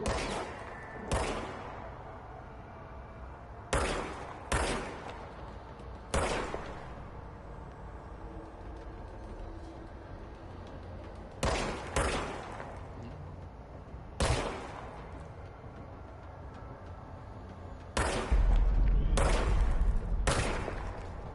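Gunshots from a player's gun in a video game, firing as sharp separate blasts and short clusters with pauses between them, loud and close over a low ambient bed.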